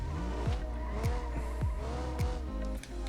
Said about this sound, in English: It's got a misfire.